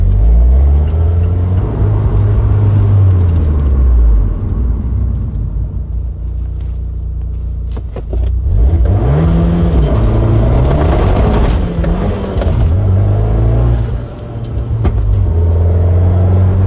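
Big-turbo Abarth 124 Spider engine idling at a raised but still rough, uneven speed, a steady low rumble close by with slight surges and dips in tone, no talking.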